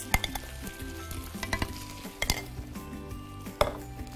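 Sauce added to a hot frying pan sizzles steadily while being stirred, with scraping clatters of the utensil against the pan and a few sharper knocks, close and fairly quiet, with no talking.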